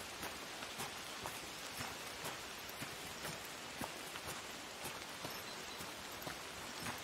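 Steady rain pours in the woodland video game Among Trees, a dense, even patter of drops hitting surfaces that holds alone and unchanging at a soft, moderate level.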